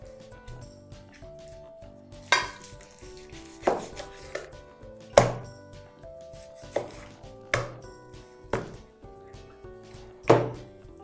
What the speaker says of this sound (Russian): И я просто уже подрезаю ее вот на такие медальоны.